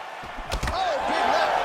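Punches thud in a UFC 2 mixed martial arts video game fight, with two heavy impacts landing close together, one right after the other, amid crowd and arena noise.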